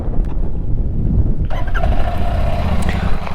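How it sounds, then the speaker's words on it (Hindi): A motorbike engine runs with a low, continuous rumble close by. The tone shifts partway through, then settles into a steady idle. "अभी मैं बाइक को ऑन करता हूँ।"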